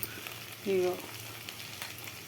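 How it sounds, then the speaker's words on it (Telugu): Bitter gourd with chilli powder and salt fries in a pan, a soft, continuous sizzle with a light scrape of stirring. "కాకరకాయ మంచిగా మగ్గింది. ఎట్లా అంటే మంచిగా ఫ్రై అయింది."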